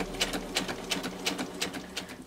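Sewing machine stitching down a fabric organizer from the card pocket, giving a steady rapid run of needle strokes at close range, with no voices.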